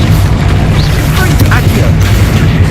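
Repeated spell blasts and booming magical explosions in the Hogwarts Legacy video game, dense and loud throughout with low rumbling bursts and brief sparkling whooshes.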